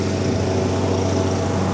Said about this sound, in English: Neighbor's mowing the grass.